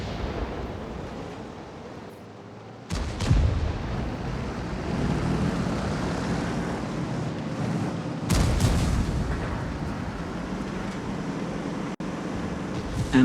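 HE shell impacts in World of Tanks land as two heavy, booming blasts a few seconds apart over a constant rumbling battle background, with a sharp crack near the end.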